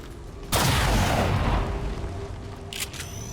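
Burst of gunfire in the turn-based tactics game XCOM 2 War of the Chosen: a loud broadband blast that rings out and decays over a couple of seconds, followed by a brief fainter crackle, with no talking.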